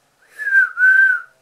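A voice imitates a catcall whistle, two rising-and-falling whistled notes in quick succession, close and loud with nothing else around them.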